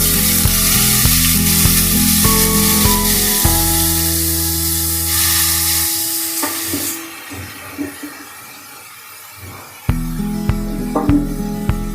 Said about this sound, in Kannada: ಸೊ ಬೆಳ್ಳುಳ್ಳಿ ಚೆನ್ನಾಗಿ ಹಾಕಬೇಕು ಅಂತ ಇದು ಕಾಯೋಷ್ಟಿಲ್ಲ, ನಾವು ಇಮಿಡಿಯೇಟಾಗಿ ಎಲೆಕೋಸು ಹಾಕೋಬೋದು